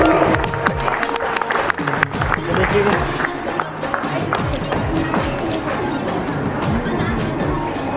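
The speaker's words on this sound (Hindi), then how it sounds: "सभी जोरदार तालियां बजाएंगे।" Loud applause and cheering from a crowd at a school annual day celebration in Ranchi, dense clapping mixed with shouts and crowd noise throughout.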